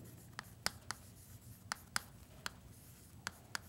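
Short chalk or marker strokes tap and scrape against a board during a math lesson, about eight crisp separate strikes in irregular rhythm, close and clear over a quiet room with no talking.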